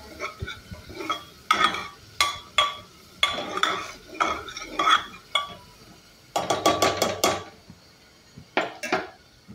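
Asafoetida and turmeric are stirred into a cooking pot with a metal spoon, making repeated bursts of clattering scrapes and clinks against the pot, loud and close, with a faint sizzle underneath.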